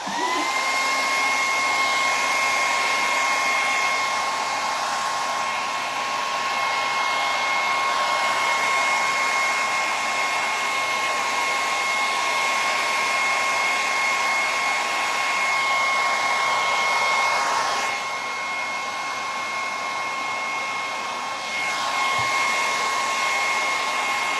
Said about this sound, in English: Hit that with a hairdryer for a minute.